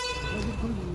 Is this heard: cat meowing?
no